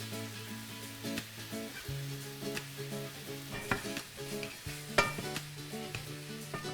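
Apples cooking in a pan with brown sugar and cinnamon, a steady close sizzle with occasional stirring scrapes, under continuous background music.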